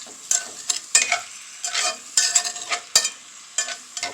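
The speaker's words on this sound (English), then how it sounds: "we're gonna kind of stir it up here, mix it up here a little bit" A spoon stirs beef stew in a pot in irregular scraping bursts over a soft sizzle, loud and close, with no talking.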